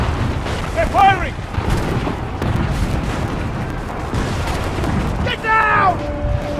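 Cannon fire in Assassin's Creed III, heavy booming blasts rolling under a constant battle din, with shouted voices breaking through at the start and again near the end.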